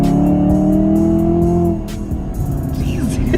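A 2018 Chevrolet Camaro ZL1 accelerates hard, its loud engine note climbing steadily before easing off partway through, heard up close from inside with no talk.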